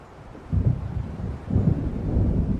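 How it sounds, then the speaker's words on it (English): Low, rolling rumble of an approaching thunderstorm in the video game Alan Wake Remastered, swelling in two broad surges over steady wind-like noise, heavy and close with no talk. "It seems there's a storm coming."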